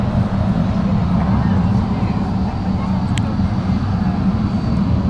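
A KLM airliner arrives at Manchester Airport, a steady broad engine rumble that stays loud and even throughout, with people talking nearby.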